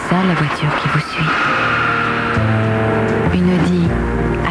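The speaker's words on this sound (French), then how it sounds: "Une Audi A4 Quattro." An Audi A4 Quattro driving in a 1996 French TV advert, with engine noise and tire sounds that shift and rise under music and a voice.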